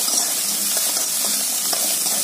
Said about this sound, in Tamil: கிள்ளி போட்டு நல்லா வதக்கி விடுங்க.